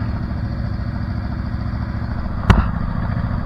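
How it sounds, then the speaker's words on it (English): A motorcycle engine idles with a steady low rumble, close and continuous, while a single sharp clack cuts in briefly partway through; no distinct rev swell stands out. "I heard someone rev"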